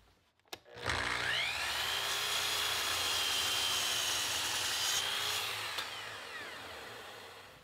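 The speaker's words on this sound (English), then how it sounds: "I've set the fence of the table saw at 1 1/4 inches, and I'm using the gripper to make this cut" Table saw cutting through rosewood for a knife handle, a loud sustained whine that rises as the blade spins up, holds steady through the cut for about five seconds, then winds down.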